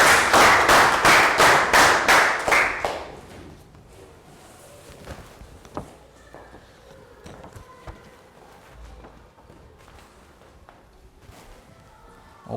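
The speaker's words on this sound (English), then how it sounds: "Round of applause for Stu." A classroom of young pupils claps in a quick rhythmic round of about ten loud, even claps, then the sound fades into quiet room noise with scattered taps and shuffling.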